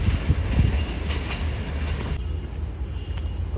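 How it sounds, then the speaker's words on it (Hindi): A light locomotive runs through Malir railway station, with a loud, close, steady rumbling roar and rolling wheel clatter that eases slightly toward the end. No voices are heard. "डाउन में भी कुछ आ रहा है, लाइट लोकोमोटिव है"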